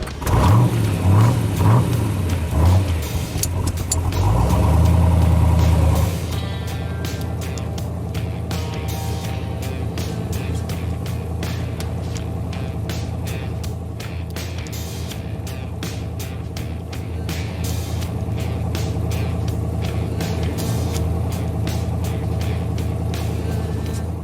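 A 427 big block Corvette Stingray engine drives past loudly, its deep rumble swelling and revving in the opening seconds before settling into a steady, throaty drone while cruising.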